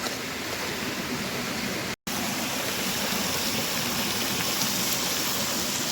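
Heavy rain pours outdoors at a forest picnic spot in a ghat of Malkangiri, a dense, steady roaring hiss that stays loud throughout, broken only by a momentary dropout near the two-second mark, with no voices.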